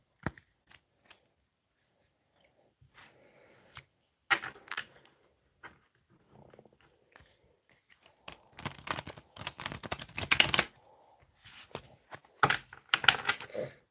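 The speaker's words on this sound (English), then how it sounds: "Let's have a few shuffles." Tarot cards being shuffled by hand, with bursts of riffling and flicking card sounds in short irregular clusters, quiet between bouts and louder toward the end, no talking.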